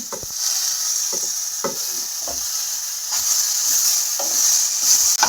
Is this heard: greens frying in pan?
yes